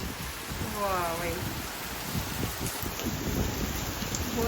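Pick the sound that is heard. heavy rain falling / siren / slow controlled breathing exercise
heavy rain falling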